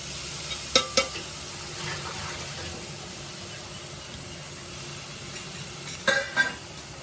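Ground paste of onion, tomato, garlic and coconut sautéing in a pan for bitter gourd kuzhambu, a faint steady sizzle with two short bursts of stirring scrapes near the start and again near the end.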